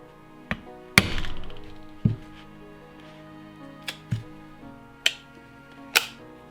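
Hammer blows bending a revolver yoke, single sharp metallic strikes spaced about a second apart, some ringing briefly, each one distinct and close.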